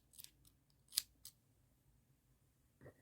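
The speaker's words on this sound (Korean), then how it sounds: "꼬리실이랑 크림색 실을 다 썼으니까 잘라 주시고" Scissors snipping crochet yarn, the tail thread and cream yarn of a monkey-shaped crocheted dish scrubber, a few quiet close-up snips with a soft rustle at the end.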